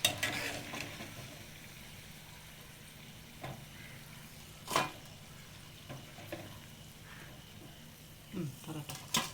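Curd vadas fry in hot oil with a steady, soft sizzle, punctuated by a few scraping clinks as they are turned over in the pan.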